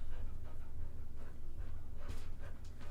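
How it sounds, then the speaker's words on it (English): A dog panting close up at a street protest, quick rhythmic breaths with soft snuffles and a faint whimper, loud and steady across the moment with no talk. "It's Max the motherfucking dog"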